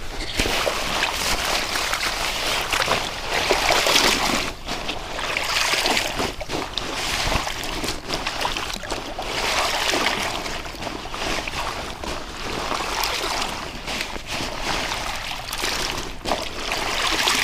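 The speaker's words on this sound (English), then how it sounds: "I got this opportunity here to submerge it in some water here." A tent ground cloth submerged and swished in water, giving a steady wash of splashing, sloshing and trickling for the whole stretch, close and continuous with no talk.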